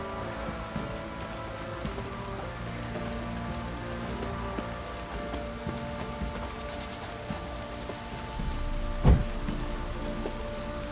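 Steady rain falling in the video game The Witcher III: Wild Hunt, a soft continuous patter with a brief louder crack near the end, over a low ambient music bed.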